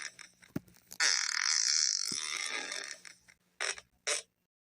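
A person's fart, after eating beans, comes as a drawn-out, loud, creaky blast lasting about two seconds. A few short bursts follow it, and a brief thump comes before it.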